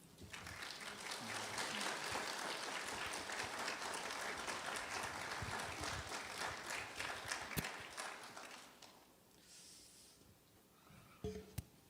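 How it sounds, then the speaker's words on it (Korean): A church congregation gives warm, steady applause at a mission agreement ceremony. Many hands clap together for several seconds, then the clapping thins out and dies away, with faint movement after it. "다시 한번 하나님께 영광과 감사의 박수 올려드리겠습니다"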